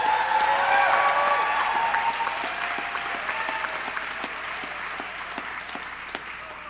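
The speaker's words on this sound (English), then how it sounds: "Let's give him a big round of applause." A gala audience at a storytelling charity show breaks into warm applause, full and close at first, then thinning gradually with a few scattered claps toward the end.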